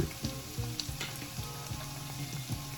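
Minced garlic fries in oil for a curry steam fish, a soft steady sizzle with small pops and a few light stirring knocks, close and fairly quiet with no talk.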